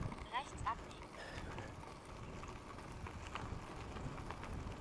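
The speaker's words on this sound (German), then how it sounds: "Natürlich wieder Wind von vorne heute." Wind buffets the microphone steadily while riding a Fischer Viator 7.0i trekking e-bike beside the Lappwaldsee, a constant low rumble with faint road and rolling noise throughout.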